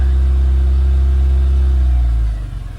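A VW MK2 Golf GTI 16v engine held at a steady, loud rev, a deep continuous drone that drops away near the end as the throttle eases off toward idle.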